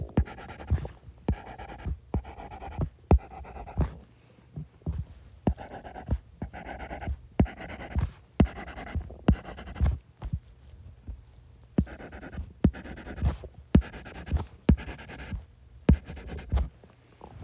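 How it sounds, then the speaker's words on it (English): Pen strokes scratching across paper, drawn in quick bursts of short repeated lines with brief pauses between groups, close and fairly quiet with no talking. "every time you see a letter D, you're going to draw 5 lines."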